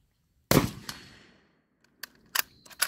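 A single sharp gunshot from a short-barreled BCL Bison .223 rifle at an outdoor range cracks loudly and rings out with a decaying tail, followed by a few quieter metallic clicks and knocks.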